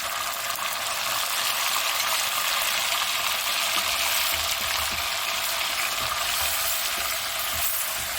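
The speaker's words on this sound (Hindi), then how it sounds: "मैं चाहती हूँ कि गोश्त को पहले मैं थोड़ा भून लूँ" Mutton frying with ginger garlic paste for a mutton-with-almonds dish, a steady bright sizzle with faint stirring scrapes underneath, close and continuous with no voices.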